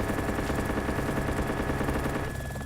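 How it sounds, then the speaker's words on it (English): Gunfire during a helicopter battle in the Arma 2 DayZ Epoch video game: a steady rapid stream of shots over a loud droning engine, close and continuous throughout. "Oh shit, they're firing back."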